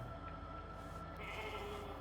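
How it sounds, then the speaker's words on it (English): A sheep bleats in a sci-fi base-building video game, its steady bleat sitting over a dense, constant layer of game music and ambient tones. "Can we pet the sheep?"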